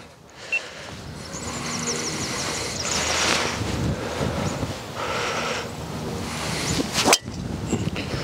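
Wind gusts across an outdoor golf course, making a steady, close rumble and buffeting on the microphone for the whole stretch, with a sharp gust near the end and no talking.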